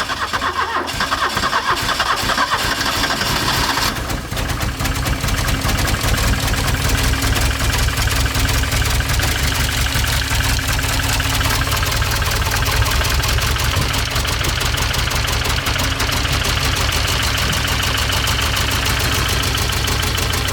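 A Porsche 924 Turbo engine cranks and fires, then settles into a loud, rough, uneven idle with a lumpy, knocking beat that runs unbroken for twenty seconds.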